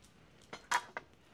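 Utensils give three quick, faint clinks as a toasted potato bread sandwich is moved onto a plate in a quiet kitchen.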